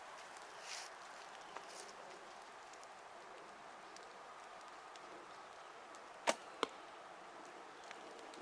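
A longbow arrow shot during target practice: one sharp, brief twang and impact burst stands out amid steady outdoor hiss, followed shortly by a second smaller click, all heard alone without talk.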